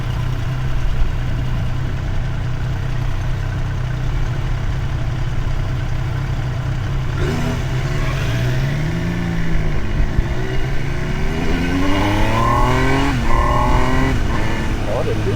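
A Triumph Trident 800 motorcycle engine idles steadily, then revs up repeatedly with rising and falling pitch, close by, with someone talking over it.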